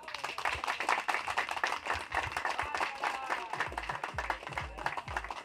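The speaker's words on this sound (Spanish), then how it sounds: "Bueno, fuerte aplauso." A crowd at a town carnival gives lively, close clapping with uneven rhythm, and several low thumps sound underneath toward the end.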